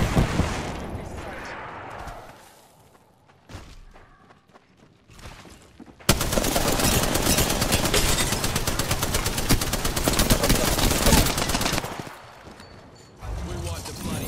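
Weapon fire during an Apex Legends match, sparse shots and thumps giving way to a long, dense stretch of rapid automatic fire, loud and close, with a voice talking over parts of it.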